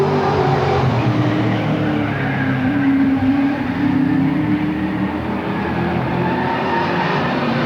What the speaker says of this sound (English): I can hear the tire squealing on him.